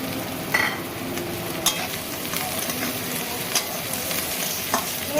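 Chopped garlic and chili sizzling in hot oil in a frying pan for tadka, a steady close crackle with occasional stirring clicks, no talking.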